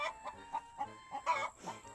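Farm chickens cluck softly and close by, a string of short, throaty calls that repeat about every quarter second, with a brief louder cluster near the middle and no people talking.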